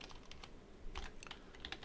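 Quick light taps of typing on a computer keyboard, short clustered clicks close and quiet with no voice.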